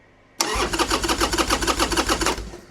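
Harley-Davidson Sportster with a rebuilt Hammer 1275 engine fires on its first start after the build and settles into a loud, lumpy, pulsing idle close by before it tapers off.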